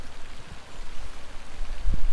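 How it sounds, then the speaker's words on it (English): Steady rain patters outdoors across a plant nursery, a continuous soft hiss with a few heavier low thumps, and no voices over it. "It's raining."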